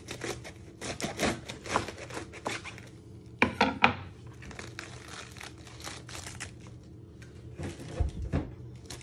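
A knife chops the root end off a whole lettuce on a board, a few sharp crunchy cuts with a louder burst midway and another near the end, with crinkling leaves between.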